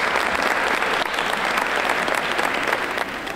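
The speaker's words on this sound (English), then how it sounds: "So give them a big round of applause." Steady, dense applause from a fashion gala audience fills the room, a continuous wash of clapping that holds even throughout without a break.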